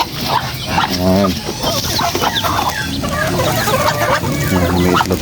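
Ducklings and poultry peep and cluck in a brooder in a busy, continuous chorus of chirps and clucks, with a person talking over the birds throughout.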